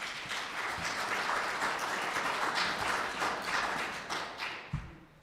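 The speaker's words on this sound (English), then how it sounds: "Let's give them all a round of applause." A farm bureau convention audience applauds the contestants of a discussion meet, a dense, steady wash of many hands clapping that thins and fades toward the end with a couple of thumps.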